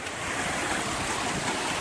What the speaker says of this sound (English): luckily it rained a lot, so I get a good water flow